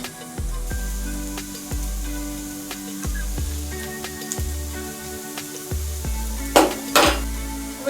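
Onions fry in a pot for a shrimp curry, a spoon scraping and knocking against metal in a steady stirring rhythm over a low sizzle, close, with a louder clatter near the end.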